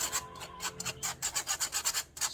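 Flour, semolina and baking powder for a Rivana cake are sifted together, giving a quick, steady run of soft rhythmic rasping and rubbing strokes, close up with no talk.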